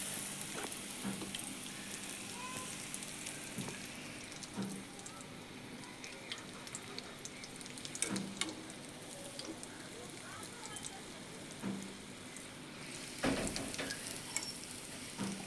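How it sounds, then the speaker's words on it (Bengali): Coated egg lollipops deep-fry in hot oil in a kadai over low to medium heat, a continuous soft sizzle and bubbling with occasional louder pops and clinks, heard faintly under intermittent talking. "এবারে গরম তেলে একে একে ভেজে নেব"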